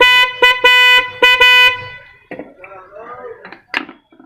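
Several short horn honks in quick succession, loud and close, followed by faint clattering and handling noises.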